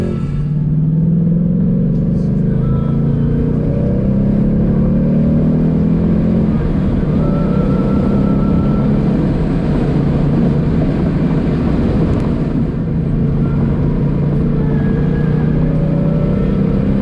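Ford Mustang GT Performance Pack 2 driving on twisty roads during a long road trip; a steady, loud engine drone and road rumble from inside the car, continuous throughout.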